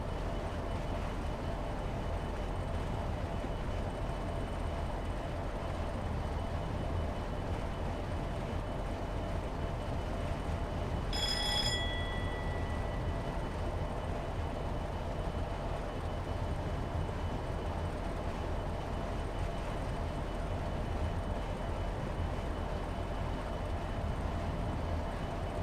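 Steady, loud low rumble of a Class 50 diesel locomotive running in Train Simulator 2021 between Exeter St David's and Paignton, with a brief high whistle-like tone midway and no talking.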